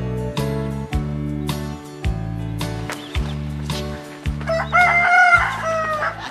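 A rooster crows loudly several times in a row, each call long and drawn out, followed by a burst of higher clucking and squawking from chickens.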